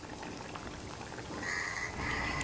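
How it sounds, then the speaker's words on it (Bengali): A pot of potato and elephant-foot yam curry with cumin paste boils steadily, giving a close, continuous bubbling hiss that grows slightly fuller toward the end. "তরকারিটা একটু ফুটিয়ে নিই"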